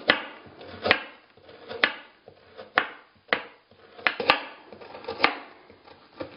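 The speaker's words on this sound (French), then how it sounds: "Nous allons les trancher, les découper en tranches assez minces pour en faciliter la cuisson." Knife slicing carrots into thin rounds on a cutting board, a steady series of crisp, close chops roughly every half second, with no talking.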